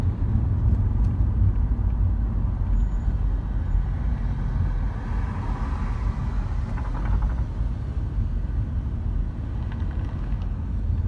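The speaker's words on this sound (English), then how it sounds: "we're moving at a pretty good pace here, just a lot of cars and traffic" Heavy Friday-night traffic rolls along the 805 South freeway toward the Tijuana border, heard as a steady low road rumble from inside a moving car, with no voices.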